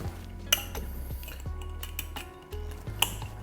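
Chopped garlic, two cloves, drops into a glass jar already packed with pickles, giving a few close clinks and taps against the glass with light rattling and scraping between them and no talk.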